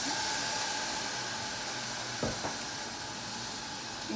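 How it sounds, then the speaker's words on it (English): Lingonberries cooking in a pot for jam give a steady sizzling, bubbling hiss throughout, with a couple of brief knocks partway through and no talking. "Now let's continue cooking our berries."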